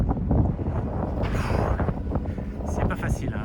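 Wind blows steadily on a cold, misty mountain hike in the Vosges, a loud, rushing roar buffeting the microphone throughout, with a voice faintly mixed in.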